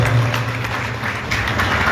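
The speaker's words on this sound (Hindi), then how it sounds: "एक बार जोरदार तालियां सबके लिए" An audience claps together at a live Khatu Shyam kirtan, a short, steady burst of dense applause heard up close, with no talking over it.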